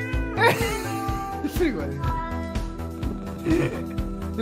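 A cat meows repeatedly in a cat video played back, the meows mixed with a busy musical or noisy background while a person speaks briefly.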